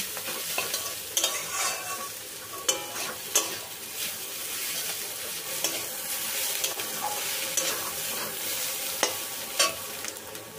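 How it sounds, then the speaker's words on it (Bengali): A fried egg is stirred into vegetables in a hot frying pan, a continuous sizzle running under repeated scraping and clinking of a spatula against the pan, close and steady, with no voices. "এখন এই সবজির সাথে ডিমটা ভালো করে মিশিয়ে নেব।"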